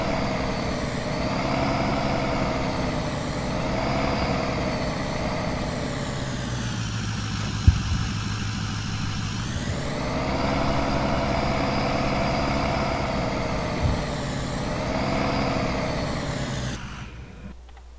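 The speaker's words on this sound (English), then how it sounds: "they made that truck loud." A loud, heavy truck engine idles steadily in a farming video game with a deep, continuous rumble and a brief click partway through, cutting off near the end.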